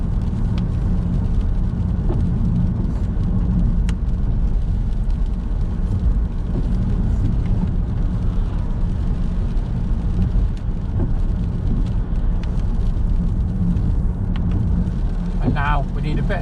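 A car climbs a hill on a Nuneaton driving test route, its engine a steady low drone with road rumble heard from inside the cabin, continuous and fairly loud throughout.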